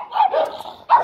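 A dog near a house barks twice in quick succession, close and fairly loud, with a short gap between the sharp yelping calls.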